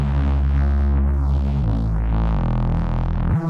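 A reese bass synth from a remix, treated with delay and EQ to remove the lows, drones thick and loud on its own, shifting pitch a few times with a slowly sweeping, hollow phasing tone.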